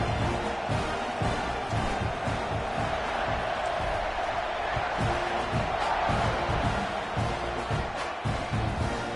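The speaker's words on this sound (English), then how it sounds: "this crowd is feeling themselves after that last drive" Stadium crowd in the College Football 26 video game roars in a steady, loud wash of cheering with no pauses, filling the clip from start to end after a scoring drive.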